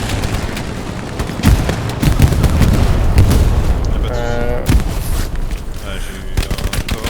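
Dense, loud gunfire and a booming grenade blast in Hell Let Loose, set in a World War II battle on Utah Beach, with rapid machine-gun bursts and heavy thumps while players talk over the fighting.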